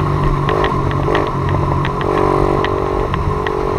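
A Peugeot 103 moped engine runs close by with sharp popping and rapid revving. The two-stroke rattle is loud and continuous, with repeated crackling bursts.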